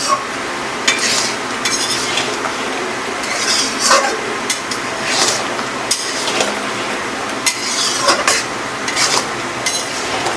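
Raw Himsagar mango pickle is stirred in a pan as its juices cook down. A spoon scrapes and knocks against the pan in a steady, repeated rhythm over a faint sizzle, close and without talk.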